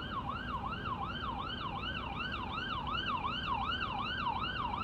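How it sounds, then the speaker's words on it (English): A wailing ambulance siren sweeps up and down in a steady rapid cycle, moderately loud and continuous over traffic rumble. "It's an ambulance turning."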